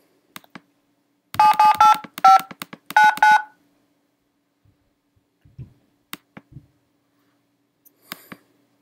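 Telephone keypad tones dial an extension on an automated phone system, a quick run of about six loud, clear push-button beeps in close succession, then a few soft clicks and handling noises.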